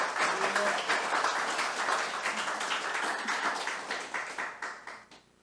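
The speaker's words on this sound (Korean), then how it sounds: "나오실 때 뜨거운 환영의 박수를 해주시면 감사하겠습니다." Enthusiastic welcoming applause from a church congregation at a Sunday service, steady at first and then thinning into scattered final claps before fading out.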